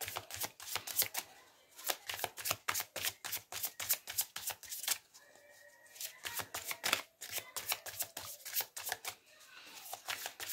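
Oracle cards are shuffled by hand for a tarot reading, giving rapid, rhythmic riffling and slapping bursts, close and crisp, repeating steadily with a short softer pause midway.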